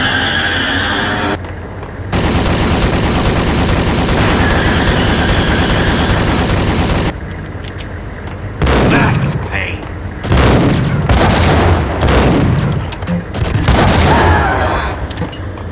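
Video game gunfire and grenade launcher explosions in Max Payne: loud broadband booms and bursts of shots come in clusters over a steady game din, with a voice talking at times.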